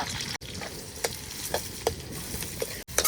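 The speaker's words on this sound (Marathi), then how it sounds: "कांदा चांगला परतून घ्यायचा बाळा कांदा मस्त परतलाय" A soft, continuous sizzle of onion frying in oil in a kadhai over a wood-fired stove, with occasional scraping stirs and clicks of a spatula against the pan; no talking.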